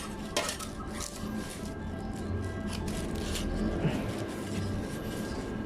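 Egg cooked in banana leaf being plated, with soft clinks and scrapes of dishes and utensils scattered over a low steady background.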